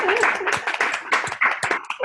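Scattered clapping from a small online audience, uneven and close, a few pairs of hands tapping in irregular bursts over roughly two seconds with some voices mixed in.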